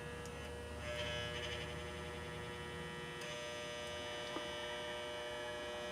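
Steady electric hum from a Lee 4/20 electric melting pot as its element cycles on to heat, a low continuous buzz with faint clicks and nothing else heard.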